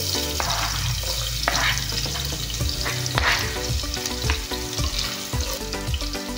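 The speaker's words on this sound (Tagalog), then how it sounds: "Magigisa na tayo. Ito, luya. Luya muna." Ginger and garlic sauté in a hot pan, giving a loud continuous sizzle with repeated scraping knocks as a utensil stirs, close and without talk.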